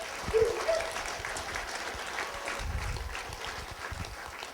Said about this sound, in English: Let's give the Kuhn family a great big round of applause for doing that.